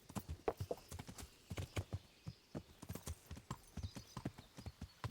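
Horse hooves clip-clop steadily in Kingdom Come: Deliverance, a quiet, regular walking rhythm of hoof falls with no talk over it.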